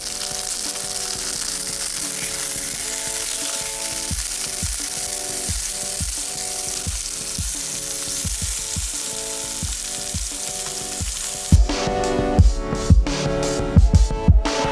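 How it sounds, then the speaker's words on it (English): Beyond Meat plant-based sausage sizzles steadily in a hot frying pan, a loud, close, continuous crackle with rhythmic scraping strokes, then sharper clattering knocks near the end. "But I'm going to cook it up anyway"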